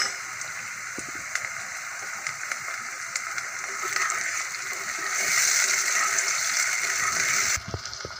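Tomatoes go into a pan of softened onions for aloo shimla mirch, setting off a steady hiss of sizzling that swells midway and then drops away suddenly near the end.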